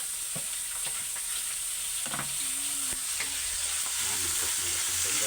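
Meat for dinuguan stirred and sizzling in a pan, a steady close frying hiss broken by scraping and clinking stirring strokes, with no talking.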